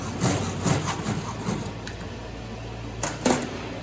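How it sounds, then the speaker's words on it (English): A hacksaw cuts through PVC pipe in a few quick, rasping strokes near the start, then pauses before two more short strokes, all close up with a faint low hum underneath. "We're gonna show you real quick with a hacksaw."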